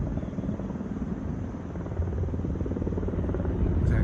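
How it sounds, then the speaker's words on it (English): A CAL FIRE firefighting helicopter approaching over a wildfire, a steady rumbling rotor thrum that grows slightly louder toward the end, with no talk. "Looks like we got a chopper coming in."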